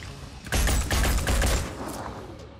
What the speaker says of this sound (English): We get a return fire from the turret.